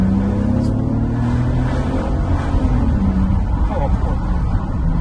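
A Bentley Continental GT takes a corner on curvy roads in sport mode, its engine droning loud and steady inside the cabin, with a low rising and falling hum throughout and a voice speaking over it.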